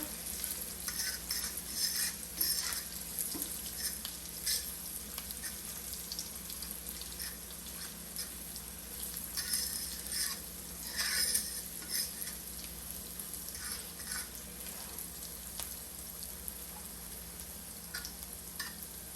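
Creamy Tuscan chicken is stirred in a frying pan, giving a steady sizzle with soft scraping and swishing strokes that run continuously, close and moderately loud, with no talking.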